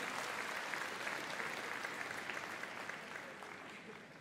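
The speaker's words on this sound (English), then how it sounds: "So a big round of applause for Bert as well." A crowd applauds a search and rescue dog demonstration at Crufts, sustained even clapping that stays fairly distant and gradually fades over about four seconds.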